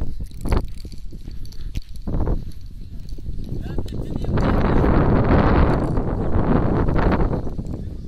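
Wind buffets the microphone outdoors during a frisbee target match, a rough roar that swells and holds, with brief gusts and thumps early on.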